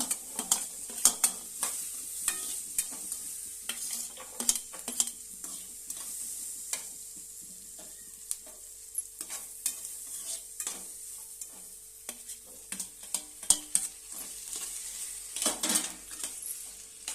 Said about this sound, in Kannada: ಒಂದು ಏಲಕ್ಕಿ, ಚಕ್ಕೆ, ಪಲಾವ್ ಎಲೆ ಒಂದು, ಫ್ರೈ ಮಾಡ್ತಾ ಇದ್ದೀನಿ